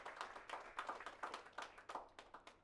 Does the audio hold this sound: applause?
yes